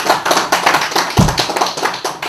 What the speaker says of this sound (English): he deserves a big round of applause for doing this